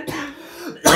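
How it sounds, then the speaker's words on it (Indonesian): A man coughs and clears his throat during a casual airsoft and gel blaster chat, a short raspy hack up close followed by a louder burst at the end. "Aduh, ini sampai batuk-batuk ini."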